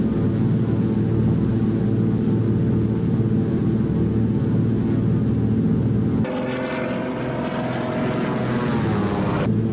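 A Thranda DHC-2 Beaver's radial piston engine and propeller drone steadily at cruise over 9,000 feet with flaps up in the X-Plane 11 flight simulator. The roar is loud and continuous, and its tone shifts partway through.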